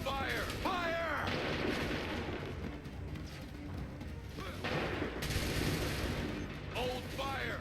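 Musket volleys in the Assassin's Creed 3 video game, booming battlefield gunfire under a constant din, with officers shouting orders over the noise.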